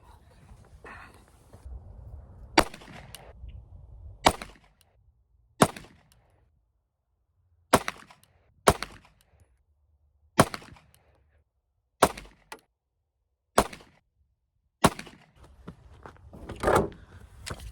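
Palmetto State Armory Dagger pistol firing at a range, about a dozen sharp, loud shots spaced a second or two apart, some in quick pairs, with quiet gaps between.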